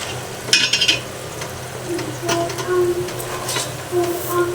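Bay leaf, cardamom, cinnamon and onion frying in hot oil in a home kitchen, a soft crackle under clinks and scrapes of a spatula against the pan.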